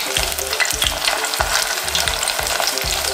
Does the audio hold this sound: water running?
no